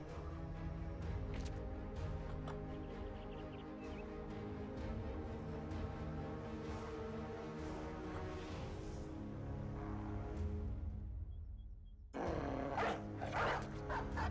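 War dogs in the Battle Brothers video game bark repeatedly over a steady game soundtrack, loud and continuous, with a brief drop before the barking and clatter resume near the end.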